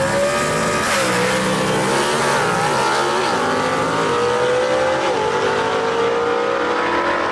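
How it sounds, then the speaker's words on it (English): A C/Gas gasser drag race car launches hard off the line at a drag strip, its engine roaring loud and continuous with rising revs and a crowd-filled track ambience behind it. "that's the way a C-Gas car is supposed to leave the line"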